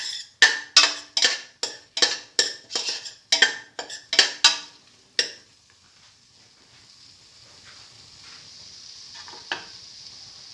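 Pilaf with fenugreek leaves and salt being sautéed in a pan, with a run of about a dozen sharp, regular clinks of a utensil against the pan, then a soft steady sizzle with a few faint scrapes.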